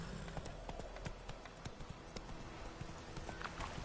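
Horse hooves galloping in a PS4 video game, a steady rapid clip-clop rhythm running throughout, fairly close with a busy game soundscape underneath.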